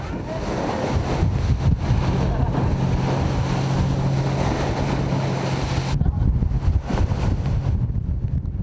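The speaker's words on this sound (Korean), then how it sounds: "바다는 거친 파도와 강한 바람으로 대양호를 맞이했다" Rough seas and strong wind buffet a fishing boat on the East China Sea, a loud continuous roar of waves and gusting wind noise with a low hum that drops away partway through.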